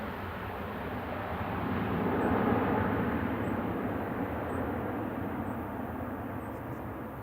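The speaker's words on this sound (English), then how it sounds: "That's flight 3960 departing a max 8 for 2E." A Boeing 737 MAX 8 departing Manchester Airport makes a steady, distant jet roar that swells gently and then slowly fades, heard alone without voices.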